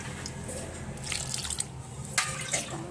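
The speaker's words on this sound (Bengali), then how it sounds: "দু কাপ পরিমাণে ডালের জন্য আমি পাঁচ কাপ পরিমাণ জল দিয়েছি" Water is poured into boiled, mashed lentils for dal, splashing and trickling close by in uneven bursts with a few sharper drips.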